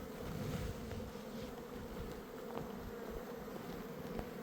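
Honey bees hum steadily inside a hive in a remote Iranian mountain setting, a soft continuous drone at low level with no talk.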